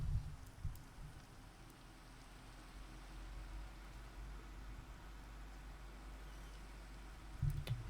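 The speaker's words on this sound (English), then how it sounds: "It's raining." Steady, quiet rain hisses without a break in the video game Minecraft, a soft even wash of noise with a couple of faint low thumps near the start and end.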